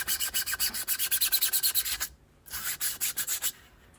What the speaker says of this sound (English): It's a heck of a lot easier to sand something that's this big compared to the smaller one.